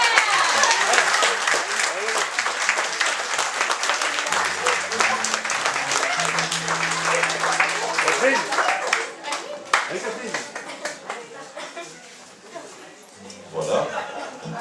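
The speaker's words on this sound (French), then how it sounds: "Vous les applaudir bien fort." A concert audience applauds a French song group, producing dense, lively clapping that swells and then gradually thins out, mixed with chuckles and talk from the stage and crowd.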